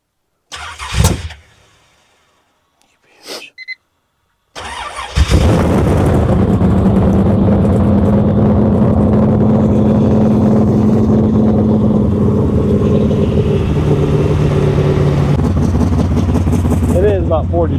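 A G-body car on E85 fuel with a newly installed carburetor, in cold weather around 40 degrees. Two short cranking bursts come first, then it catches and settles into a loud, close, uneven rough idle, as if missing a couple of cylinders.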